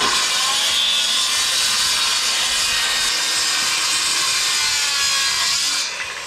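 A steel roofing panel is cut with a power tool, making a loud, continuous, shrill grinding rasp that holds steady for several seconds before easing off at the end, with no talking.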